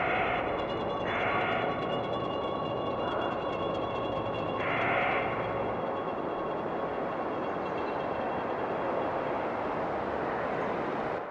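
Guitar processed into an ambient sound texture gives a dense, continuous wash with a few sustained tonal swells layered on top, fairly loud throughout before cutting off abruptly.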